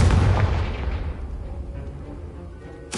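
A Confringo fire spell blast in Hogwarts Legacy: one loud booming explosion that decays over about two seconds into a fading rumble, then a sharp new burst right at the end.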